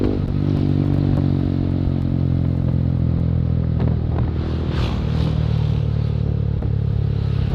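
Motorcycle fitted with a big-volume long AWR exhaust (knalpot) made in Purbalingga, idling and revving with a deep, smooth bass burble, loud and close, and a few brief clatters partway through.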